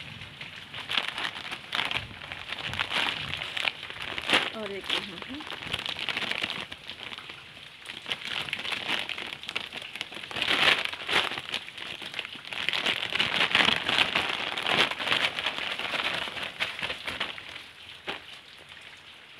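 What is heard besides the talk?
continuous rain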